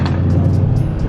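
A straight-piped BMW M3 exhaust holds a steady, loud, deep rumble for about a second, droning evenly with no voices over it.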